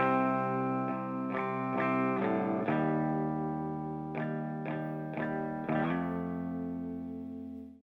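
Distant-sounding electric guitar from a song, run through chorus, distortion and echo effects, rings out in sustained layered chords with several struck accents, steady and loud throughout before cutting off at the end.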